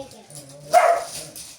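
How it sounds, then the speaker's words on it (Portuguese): A dog lets out a single sharp, close bark midway, preceded by a soft whimpering whine and followed by quiet. "Esse cachorro tá abençoado."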